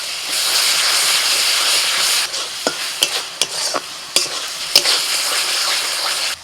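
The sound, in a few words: onion paste and ginger garlic paste frying in oil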